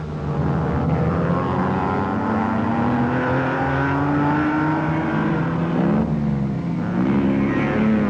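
Racing cars at the 1961 Le Mans 24 Hours, among them Ferrari Berlinettas, roar past continuously, with rising and falling engine notes as cars pass in close succession, loud and steady throughout.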